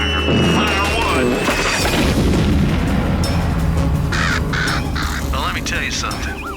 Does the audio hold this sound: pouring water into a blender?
no